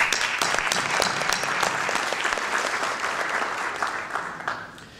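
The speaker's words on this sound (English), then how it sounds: "I think they also need a big applause from us" An audience claps for bronze medalists at a crystal growing competition award ceremony, steady dense applause throughout that gradually tapers off.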